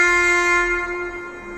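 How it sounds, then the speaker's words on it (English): A loud, sustained train horn blares in one steady chord, fading slightly toward the end. "let's hear the sound of a train horn."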